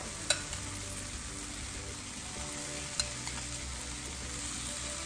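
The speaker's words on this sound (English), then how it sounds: "I'm going to add my shrimp to the frying pan." Shrimp sizzle steadily in a hot frying pan, a constant crackling hiss with a couple of sharp clinks of a utensil against the pan.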